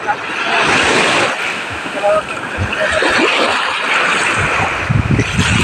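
Steady broadband wash of sea surf breaking along a shore, continuous and fairly loud, with gusts of wind buffeting the microphone.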